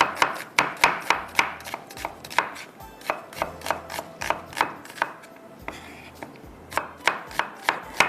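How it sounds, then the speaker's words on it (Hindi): A knife chops through onions on a cutting board in a steady rhythm of sharp, close knocks, about two per second, with a short pause midway. "प्याज को हम कटिंग करते हैं, स्लाइस में कटिंग करके इसको डालते हैं"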